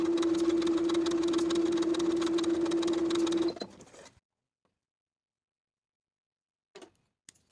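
A sewing machine stitching darts on a dress bodice, running in one steady, fast, whirring burst for about three and a half seconds before stopping, followed by near silence and a couple of faint handling clicks.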